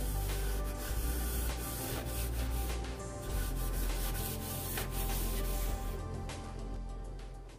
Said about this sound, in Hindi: इस तरह से हमें सारे बॉडी पे से रब कर देना है